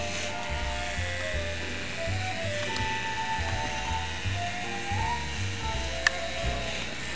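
Hair clippers freshly sharpened with Clipp-Aid buzzing steadily while cutting hair, a close electric hum whose pitch wavers slightly as the blades move through the coat, with a brief click near the end.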